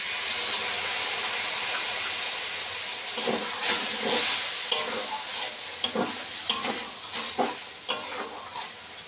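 Soaked spice paste added to lentils and potatoes frying in a pan, giving a steady sizzle with a run of sharp pops and spits growing louder near the end, alone without talk.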